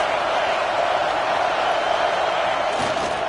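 A dense, steady roar comes from a stadium crowd at a college football game between UTSA and Oklahoma, a loud continuous wash of cheering with no distinct breaks.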